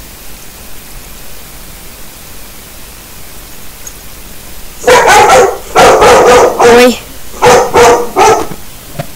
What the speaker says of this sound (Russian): Вот у меня собака залаяла одна.